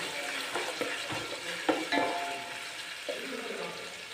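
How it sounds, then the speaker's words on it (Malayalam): Garlic and ginger are sautéed in a pan for a mango and carrot pickle, giving a steady sizzle broken by scraping spoon strokes and clinks against the pan. "ഇഞ്ചിയും ചേർത്ത് ഒന്നുകൂടി ഒന്ന് വഴറ്റിയെടുക്കണം"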